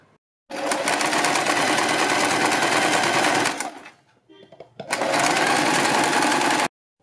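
A sewing machine stitches around a folded fabric neck piece in two loud sustained bursts, the first about three seconds, then a short pause with faint handling before a second two-second run.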